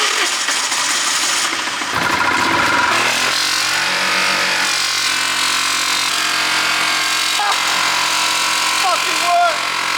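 A Hoover vacuum cleaner runs through a hose fitted to a car's engine bay and adapted panel filter, giving a loud, steady roar and whine that holds for the whole stretch, with a brief dip and swell early on.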